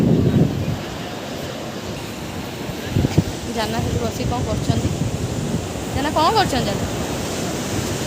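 Sea waves wash onto the shore at Mypada beach in Odisha, a steady rushing surf with a breezy wind noise. People talk over the waves.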